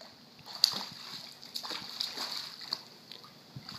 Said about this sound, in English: Let's see you swim all the way over to Callie